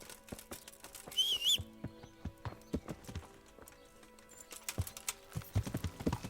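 Horse hooves clip-clop in an uneven trotting rhythm, fairly close, with a brief high whistle-like tone early on and faint game ambience in Kingdom Come: Deliverance.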